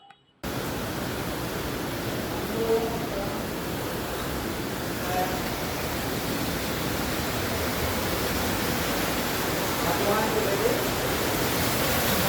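Rushing floodwater after heavy rain near the Kannur airport perimeter wall, flowing past houses and a bike workshop: a steady, dense, broadband roar that holds loud and constant from start to finish with no voices.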